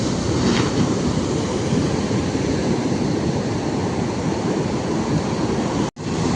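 Sea waves at Puri beach roar continuously in a loud, dense wash of surf with no distinct breaks, ending in a brief dropout near the close.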